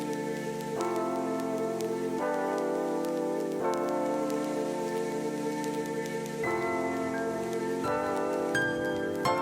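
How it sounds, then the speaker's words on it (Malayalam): Steady rain falls in a traditional village in Nepal, a constant hiss running through the whole stretch beneath loud sustained tonal sounds that shift in steps. "അതിനിടയിൽ മഴയും പെയ്യുന്നുണ്ട് കേട്ടാ."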